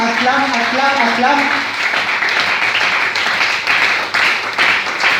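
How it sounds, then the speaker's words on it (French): A church congregation breaks into sustained applause, dense clapping filling the space at close range as a voice briefly speaks over the opening moments. "J'aimerais que tu acclames."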